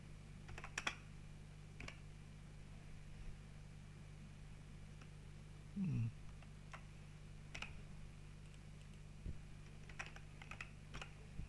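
Fingers type spreadsheet cell contents on a computer keyboard in sparse, irregular bursts of soft clicks over a low steady hum, with a brief muffled bump midway.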